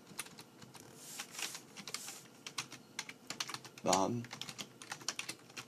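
Rapid, light clicks of typing on a computer keyboard, close and fairly quiet, with a short spoken word partway through.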